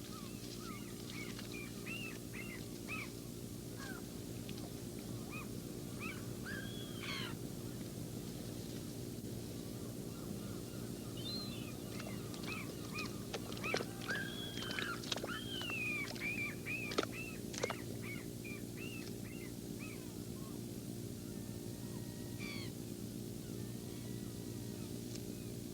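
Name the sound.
gulls calling over tidal fishing nets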